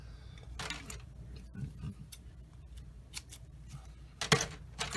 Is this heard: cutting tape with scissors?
yes